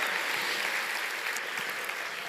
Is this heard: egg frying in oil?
no